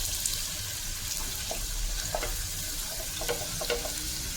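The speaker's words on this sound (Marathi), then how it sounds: "आता बारीक चिरलेला हा कांदा घालूया" Finely chopped onion frying in hot oil in a kadhai for spicy mutton sukha, giving a steady, close sizzle with a few soft clinks of stirring.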